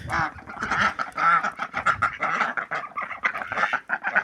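Pekin ducks in a farmyard quack loudly and repeatedly, a dense, overlapping run of nasal calls close to the microphone with only brief pauses.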